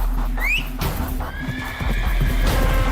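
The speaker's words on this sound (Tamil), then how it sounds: "தமினா விசில் அடித்த அடுத்த நொடி ஒரு மந்திர குதிரை அங்கே ஓடி வந்து நின்றது." A magic horse gallops up and halts with a high whinny, hooves clattering in quick beats beneath a steady low drone, the neigh rising clearly near the start and the sound staying close and full.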